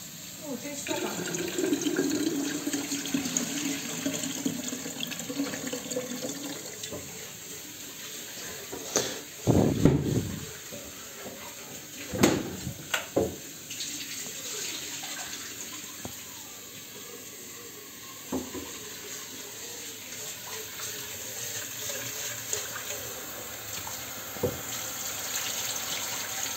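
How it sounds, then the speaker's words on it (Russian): Tap water running into a kettle in a home kitchen, a continuous hissing flow with a few louder splashes and clunks partway through, while people talk over it. "Воды туда набери в чайнике,"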